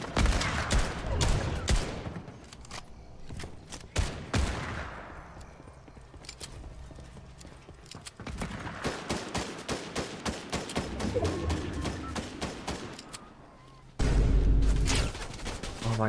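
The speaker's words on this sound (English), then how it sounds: "they're really trying to shoot us out" Dense volleys of rapid gunfire from a first-person shooter built on Unreal, firing in repeated bursts and near-continuous chatter across the whole stretch, loud and close, with a heavy blast near the end.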